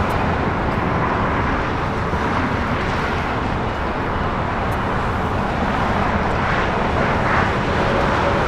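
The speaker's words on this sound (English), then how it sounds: "Japan A350 now starting its taxi." A Japan Airlines Airbus A350 taxiing at LAX, a steady broad engine roar and rumble that holds loud and constant throughout with no talk over it.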